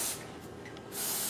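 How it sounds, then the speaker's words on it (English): WD-40 spray oil hissing from an aerosol can onto truck tonneau cover ball joints, a steady close spray lasting about a second with a short pause partway through. "So I'm just going to use a spray oil like WD-40."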